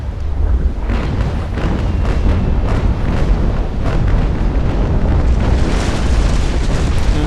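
Heavy cannon fire from sailing warships in the naval battle game Naval Action, a dense continuous rumble of overlapping booms and blasts that stays loud across the whole stretch with no voices.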